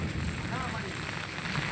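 Steady rain pouring at night on a flooded street where shops and houses are under water, a dense continuous hiss with no distinct drops.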